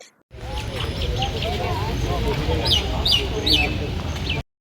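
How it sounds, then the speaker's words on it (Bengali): Birds call and chirp in a quiet morning outdoor setting during an environment day rally, with repeated bright chirps over a steady murmur of people talking nearby, loud and continuous throughout. "এই শান্ত নিরিবিলি পরিবেশে পাখির আওয়াজটা কি ভালো লাগছে না"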